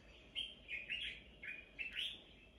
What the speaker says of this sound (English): hear the birds singing like this?